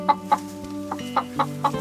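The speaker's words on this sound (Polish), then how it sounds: "Teraz się kury denerwują, dlatego że kot wszedł." Unsettled hens inside a henhouse, disturbed by a cat, let out a series of sharp, separate clucks in an uneven rhythm, close by and fairly loud, with no voices.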